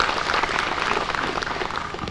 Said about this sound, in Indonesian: Untuk itu tepuk tangan dulu kita semua